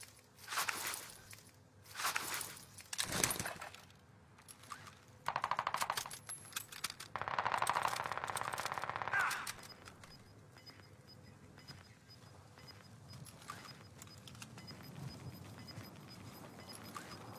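Gunfire in Call of Duty Warzone on the Caldera map: bursts of automatic fire and single shots, some close and loud, mixed with footsteps and clinking, fading to quieter ambience.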